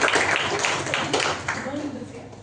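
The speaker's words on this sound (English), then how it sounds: "Please give a round of applause." Audience applause at a Toastmasters club meeting, scattered clapping that rises and tapers over a couple of seconds while a voice talks over it.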